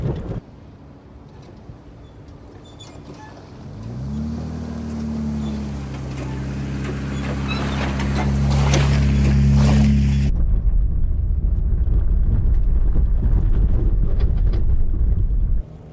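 Jeep Wrangler JK driving on an uneven sandy trail in Michigan, a low engine rumble that swells and holds with rising revs in the middle, then gives way to rough, loud jostling wind and road noise near the end.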